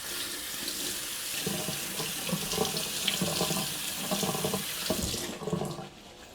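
Canned butter beans are rinsed under a running kitchen tap, a steady close splashing stream with shifting patter as the beans are stirred, easing off near the end.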